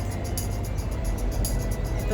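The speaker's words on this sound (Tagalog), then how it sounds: "Tahimik, sasakyan lang ang maririnig mo, walang ingay ng tao." Steady road traffic rumbles in Kuwait, heard from a rooftop as a continuous low wash of cars passing below, fairly loud and even, with no voices.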